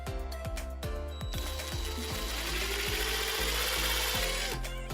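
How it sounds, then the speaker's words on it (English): A power drill whirs steadily, its motor pitch shifting as it bites through material, with a few clicks and knocks at the start. "Just gonna drill a hole through."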